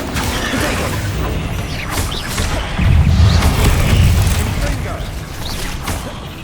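Bombarda explosion spell cast in the video game Hogwarts Legacy: a deep, rumbling magical blast swells midway and then fades, sitting over a dense bed of game effects and ambience.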